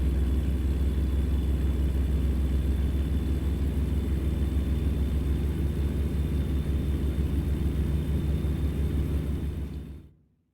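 A Kenworth W900 truck in American Truck Simulator hauling about 43,000 pounds, its engine giving a steady, loud low rumble while driving before cutting off near the end; no talking.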